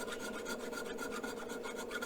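Steady rasping strokes of a dull chainsaw file scraping across a high-carbon steel knife blade, repeated in a quick even rhythm, close and fairly quiet.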